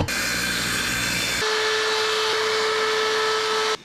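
A router cuts into a plastic panel during a camper van build, a loud continuous high whine that shifts to a steadier tone partway through, then cuts off abruptly.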